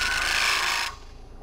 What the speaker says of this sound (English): you drill a hole and you cut side grain by moving the tool sideways.